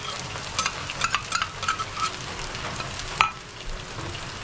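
Garlic frying in a pan for a traditional Bodo dish, a steady crackling sizzle with scattered pops and stirring scrapes, moderately close and without talk.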